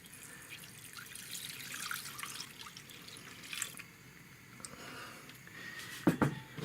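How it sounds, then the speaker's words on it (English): Milk poured into a pan on the stove gives a quiet, close trickle and splash over a soft background, with a couple of brief louder clinks near the end. "We add the milk."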